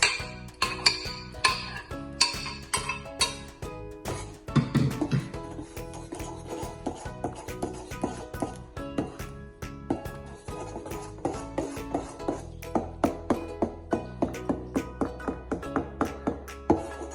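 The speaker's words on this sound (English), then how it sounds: "I'm going to use one of the Saladmaster spoons too to mix it" A Saladmaster spoon stirs moi-moi batter in a 1-quart Saladmaster saucepan, making repeated close taps, clinks and scrapes in a steady rhythm with no talk.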